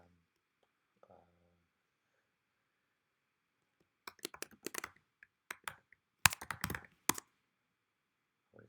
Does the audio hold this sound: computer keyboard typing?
yes